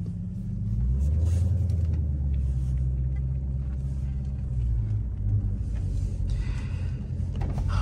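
A car being driven off-road in Mexico throws out a loud, steady, low engine rumble that holds throughout with small surges, with no voices.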